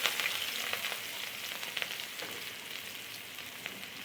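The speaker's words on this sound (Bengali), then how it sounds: "আমরা কড়াইতে কিছু তেল গরম করে তার মধ্যে পেঁয়াজ কুচি দিয়ে নিচ্ছি" Chopped onions fry in hot oil in a wok, giving a steady, soft sizzle with faint crackles throughout and no talking.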